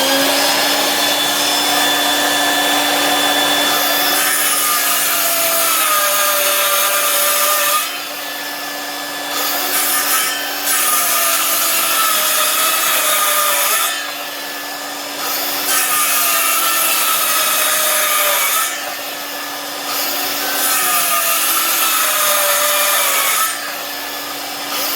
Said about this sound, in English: Vacuum cleaner goes on.